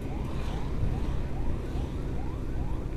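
Ambulance siren wailing in repeated rising sweeps over steady traffic and engine rumble while the vehicle pushes through a congested one-lane road toward Singaparna, loud and continuous throughout.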